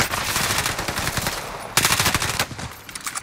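Rapid automatic gunfire in the video game Call of Duty: Modern Warfare, two dense bursts of crackling shots with a brief lull between them, fairly close and without talk.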